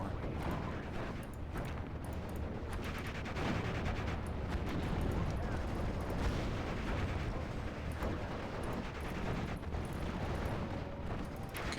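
Dense, continuous battlefield din of artillery fire in Steel Division: Normandy 44 on the Normandy hedgerow front, booming shell impacts and rumbling blasts layered into a steady, loud wash for the whole stretch with no voices.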